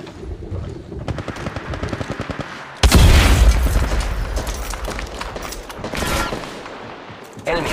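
Gunfire in the mobile game Apex Legends Mobile: rapid bursts of close shots, then a loud blast and sustained heavy firing with sharp cracks mixed with game effects and character callouts.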